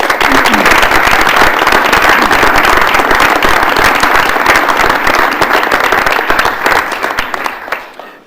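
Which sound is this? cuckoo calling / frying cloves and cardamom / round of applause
round of applause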